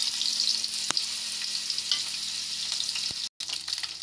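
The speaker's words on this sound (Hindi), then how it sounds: "अब इसमें हम अपनी परवल को डाल लेते हैं।" Pointed gourd (parval) fries in hot oil with a broken dried red chilli, giving a close, steady hiss. Faint clicks of stirring break through it, and the sound cuts out briefly near the end.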